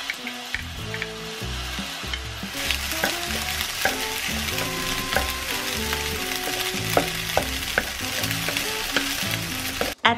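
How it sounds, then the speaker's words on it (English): Green peas and egg white stir-fried in a pan, a steady close sizzle and crackle of frying with scattered scrapes and clinks of the spatula stirring throughout, no talking. "Put the green peas and egg white into the pan. Stir fry everything for a short while."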